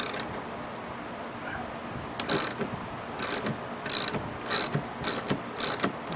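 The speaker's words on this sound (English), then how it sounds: "This is a 1/2-inch socket. So let's see what we got in terms of being able to get this off." A ratchet with a 1/2-inch socket loosens a nut on a Chevy S10 Hot Wheels truck, giving bursts of rapid clicking in several short strokes, close up, with no talk.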